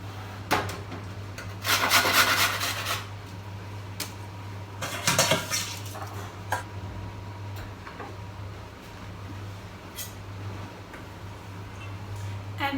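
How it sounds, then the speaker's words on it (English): Vegetables being grated on the large holes of a grater for spring rolls, heard as two short bursts of rough rasping strokes among scattered clicks and knocks over a steady low hum. "So I'm just going to use the large hole to grate them."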